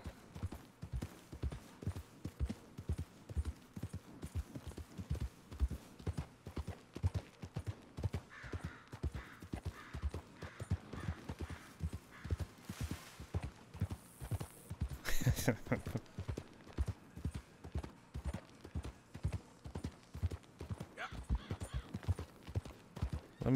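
Horse hooves clip-clop at a steady walking rhythm through Red Dead Redemption 2 gameplay, close and continuous for the whole stretch, with faint background game sounds now and then.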